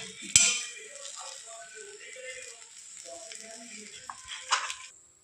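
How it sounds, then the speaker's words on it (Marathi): An egg and bread omelette fries in butter in a pan with a steady, gentle sizzle, and a sharp clink from a spatula at the start and again near the end. "आता आपण यावरती बटर टाकूया आणि चांगलं आमलेट भाजून घेऊया।"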